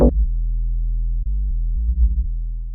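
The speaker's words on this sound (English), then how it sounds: "but rather a triangle wave." A triangle-wave synth bass from Ableton's Operator plays a short run of clean, low sustained notes that change pitch a few times, heard alone with no talking.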